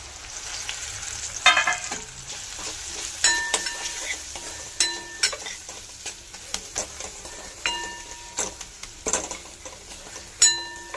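Masala spices frying in oil for a village-style eggplant and potato dry dish, a steady soft sizzle with sharp clinks and scrapes of a spoon stirring against the pan at irregular intervals, close and alone.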